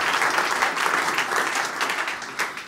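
Audience applause at a Swiss panel event on federalism, a steady dense wash of clapping from a seated crowd filling the whole stretch with no voices on top.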